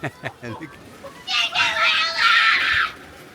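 A child lets out a loud, shrill, sustained scream close by, following a few brief spoken words, with faint background voices.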